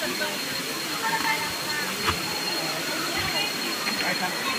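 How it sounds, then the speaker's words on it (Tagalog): Waterfall at Dampalit Falls in Los Baños, Laguna, a steady broadband rush of falling water filling the scene at even loudness, with faint voices beneath it. "So makikita niyo yung falls"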